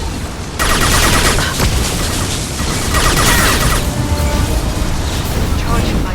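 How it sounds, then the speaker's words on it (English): A flashbang grenade blast and gunfire in the video game Mass Effect 2, a sudden loud burst that gives way to sustained crackling shots and booms, with voices talking over the chaos. "Watch out, flashbang!"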